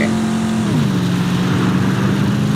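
A monster truck in the Mad Max video game, its engine droning loud and steady with a pitch that sweeps down then settles into a constant rumbling hum, heard up close with no voices.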